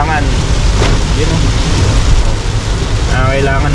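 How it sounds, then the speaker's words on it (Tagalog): Heavy rain drums steadily on a car driving on a long highway trip in Taiwan, a dense constant wash of noise throughout, with a voice briefly talking over it. "Grabe naman tong ulan na to."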